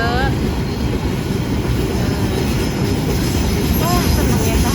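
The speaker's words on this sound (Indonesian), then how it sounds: "Itu loh tuh, bisa memandang sepur kereta api. Iya, juga lagi anu kargo barang iki dok." A cargo freight train rolls past close by, a loud continuous rumble of wheels and wagons with faint squeals, steady throughout.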